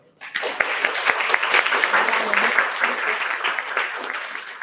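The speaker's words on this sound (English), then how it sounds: "Let's give her a round of applause." An audience at a New Taipei City urban diplomacy forum breaks into applause for a university professor, starting abruptly after a brief silence and holding as a moderate, even patter of many hands.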